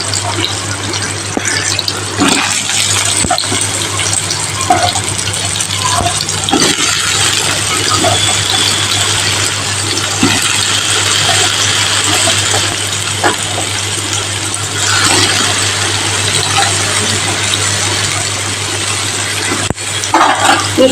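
Sweet pumpkin and potato pieces fry in hot oil with whole cumin seeds, giving a steady, loud hiss and crackle that lasts throughout, with no voices.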